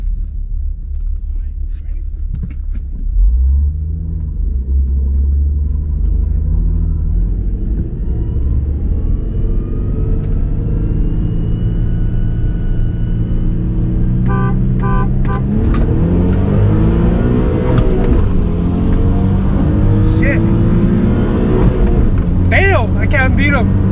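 A G37 sedan lines up against an Evo X and an S2000 for a standing-start street race, with a loud engine rumbling and revving up close throughout, rising as the car accelerates, while people talk over it.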